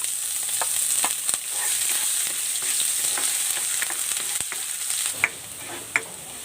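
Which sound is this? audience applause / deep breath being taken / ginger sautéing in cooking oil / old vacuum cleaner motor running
ginger sautéing in cooking oil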